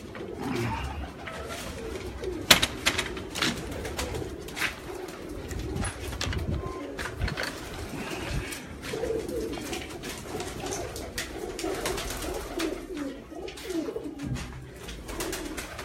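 Pigeons coo on a rooftop, with repeated soft, low throaty calls, some near and some farther off, mixed with occasional wing flutters and thumps in outdoor ambience.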